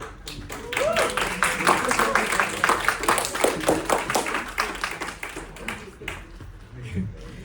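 An audience applauds after a question-and-answer talk on careers in the music industry: dense, steady clapping from a crowd that swells and then tapers off near the end, with faint voices underneath.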